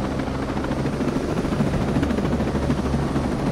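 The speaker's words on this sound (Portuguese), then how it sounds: "Vai ter que abandonar esse helicóptero aqui." Helicopter in the video game Ghost Recon Breakpoint, a steady, loud rotor thrum and engine whine holding constant throughout, with no talk over it.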